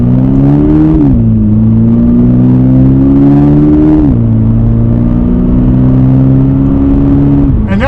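A 2026 Toyota GR86 with an automatic transmission accelerating hard, its engine droning loud and close as it revs up, dips through quick gear changes, and climbs again.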